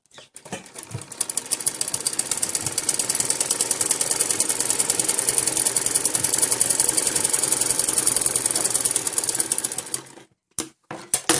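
A sewing machine runs steadily while stitching a frilled baby top, a fast continuous mechanical whirr held for about ten seconds before it stops, followed by a few short bursts.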